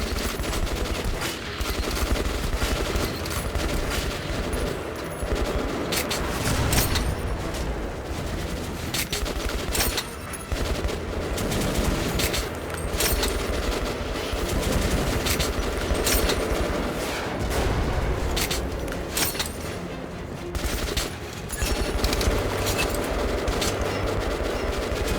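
Dense, sustained gunfire salvo from the Metro Last Light video game, loud and continuous with overlapping bursts and heavy rumble throughout, no talk.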